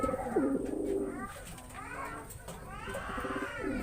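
Pigeons at a Philippine racing loft, several soft throaty coos repeating close by, with bird sounds layered over a quiet background.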